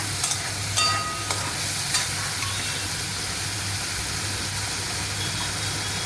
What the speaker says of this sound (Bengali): গরম মশলাটা গলে যাওয়া পর্যন্ত আমি এটাকে ভাজবো।